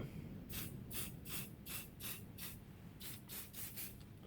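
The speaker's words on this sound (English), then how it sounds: "I'm going to quickly spray." Short hissing bursts of an aerosol can of layering spray on model hedges, a quick series of puffs in two clusters with brief pauses between them, close and fairly soft.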